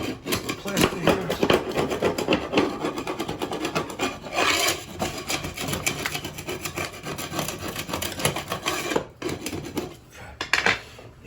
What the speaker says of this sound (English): let me try to scrape off a little bit more plastic here.